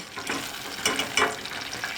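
Köfte meatballs fry in a pan with a faint, uneven sizzle and soft spattering crackles, brief and quiet, with no talking.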